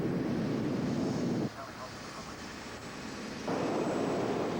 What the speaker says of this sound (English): once we get our clearance, we increase engine power and accelerate for takeoff.